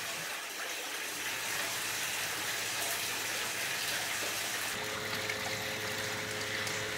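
Heavy spring rain in Eugene, Oregon pours and runs off onto a patio with indoor-outdoor carpet, a steady broadband wash of water that holds close and constant throughout with no one speaking.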